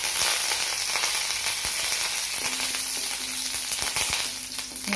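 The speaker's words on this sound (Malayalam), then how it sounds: "കടുക് പൊട്ടി അതിലേക്ക് നമുക്ക് ഈ കരിവേപ്പിൻ്റെ ഇല ഇട്ട് കൊടുക്കാം." Curry leaves and mustard seeds crackle and sizzle in hot oil with dried red chilli, a close steady frying hiss with scattered sharp pops, as a spoon occasionally stirs the pan.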